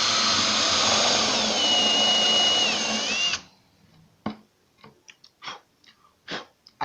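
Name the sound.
power drill with countersink bit drilling wood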